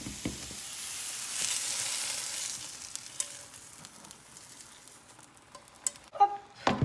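Water poured into a hot pan of vegetables for a chicken tajine, giving a steady soft sizzle and hiss that slowly fades, followed by a few clattering utensil knocks near the end.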